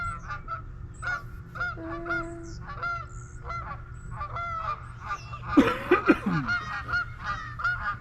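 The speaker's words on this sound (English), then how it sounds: "More geese. Yep. See them coming in." Several geese honk in a loose, overlapping chorus, with a louder burst of calls and flapping near the middle as birds come down close by.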